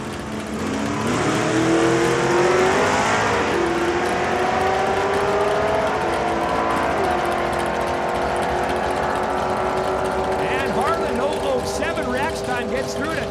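A 1962 Mercury Comet makes a drag racing run at Saskatchewan International Raceway, with engine roar rising through the gears, loud and sustained, while an announcer talks over it.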